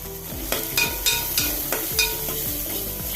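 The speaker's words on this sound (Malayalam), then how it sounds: "അതിട്ട് കൊടുത്ത് നല്ലപോലെ ഒന്ന് ഇളക്കി കൊടുത്ത് കുറച്ച് കരിയേപ്പില ഇട്ട് കൊടുക്കുക" Chilli flakes and curry leaves being stirred into ivy gourd frying in a pan, with a steady oily sizzle and several sharp spatula scrapes and knocks against the pan, close and clear with no talking.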